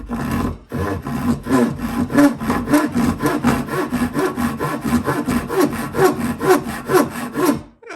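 A Dewalt single-edge pull saw cuts through clamped wood in a steady, even rhythm of about two dozen strokes, loud and close, each stroke a crisp rasp.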